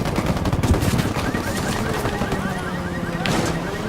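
Rapid bursts of automatic gunfire and scattered shots in a Ghost Recon Wildlands firefight, dense and continuous with a louder volley near the end, under a busy game soundscape.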